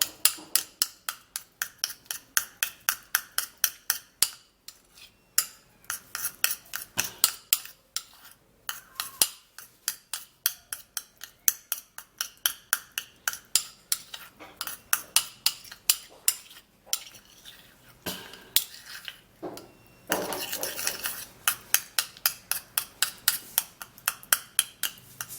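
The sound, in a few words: mixing stretch mark cream in bowl with spoon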